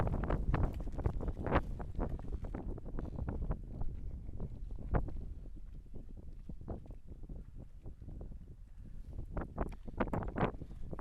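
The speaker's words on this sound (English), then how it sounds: "it's pretty windy out there, so it's hard to record because of all the wind" Strong gusts buffet the microphone in repeated low, rumbling bursts during a snowstorm on a boat, loud and uneven, with no voices.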